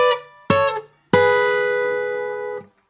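Guitar playing a straight Mixolydian blues phrase: two short plucked notes, then a single note ringing out clearly for over a second before stopping, played alone with no talking.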